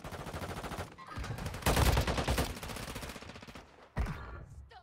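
Repeated gunfire in the mobile battle royale Warzone Mobile, with rapid bursts of close, loud shots that swell to a dense volley mid-way, pause briefly, then resume with a sharp final burst.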